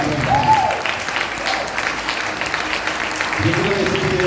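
A church congregation applauds during a sermon, a brisk, fairly loud patter of many hands throughout, with voices and shouts rising above the clapping at moments.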